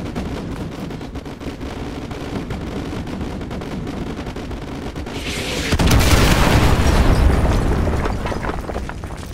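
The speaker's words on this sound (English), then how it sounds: "use your laser designator to call in artillery on those vehicles" Artillery strikes slam into vehicles in Call of Duty Modern Warfare 2, with a deep, roaring explosion surging up about two-thirds through over a background of crackling gunfire and rumble.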